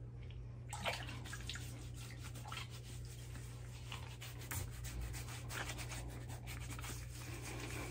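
Wet hands rub soaking water over a face before a shave, a close, soft, continuous slick rubbing with faint splashy textures running steadily throughout, no talking.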